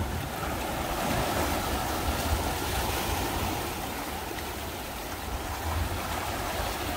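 Sea waves wash steadily against the rocky shore at Yeongeumjeong, a continuous broadband surf roar with gentle swells and no voices.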